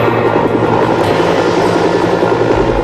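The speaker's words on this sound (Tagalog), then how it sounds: "14 na taong gulang si Melanie Tenney, hinila siya ng rescuer upang may akyat sa helicopter" A rescue helicopter hovering during a flood disaster, its engine and rotor making a steady, loud, continuous drone with no voices.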